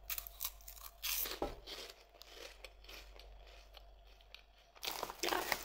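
Crunchy Herr's Jalapeno Poppers snacks are chewed close up, with faint irregular crunching and crinkling bursts against a quiet background.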